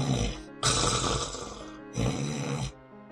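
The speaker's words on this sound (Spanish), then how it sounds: "oyó que alguien roncaba" Two loud, long snores, each a rough rasping breath with a brief quiet gap between, very close; sounds like a voice playing up the snore.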